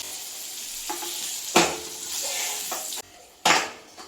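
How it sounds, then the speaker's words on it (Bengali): Bitter gourd sizzles gently in hot oil in a pan while a spatula stirs it, giving a few sharp scraping clatters over the steady frying hiss. "এই তেলটাতে উচ্ছেটা নেড়ে নেবো।"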